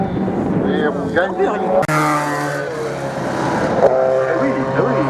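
A Reynard 903 single-seater race car at a regional hill climb in Hébécrevon, its engine revving high and shifting through gears as it passes, with French race commentary talking over it.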